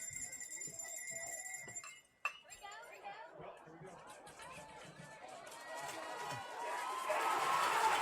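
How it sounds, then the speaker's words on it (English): Crowd noise at a 2017 Regional 1 Finals high school baseball game between Grapevine and Colleyville swells into a loud, broad cheer toward the end, after chatter and scattered clinks, with a sharp knock midway. "Crowd is really into it now."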